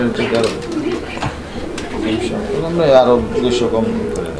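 Pigeons coo in low, rolling calls at a Bangladeshi pigeon farm where caged pairs are kept, close and fairly loud, with someone talking over them.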